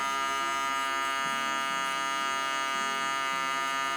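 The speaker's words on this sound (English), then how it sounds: "So now I'll grab my electric shaver and then just basically use it up until that faint line." An electric shaver buzzes steadily and loudly close up as it trims hair for a mid fade haircut, a constant unbroken motor drone with slight shifts in pitch as it moves.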